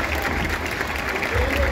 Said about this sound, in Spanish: Fuerte aplauso para los bailarines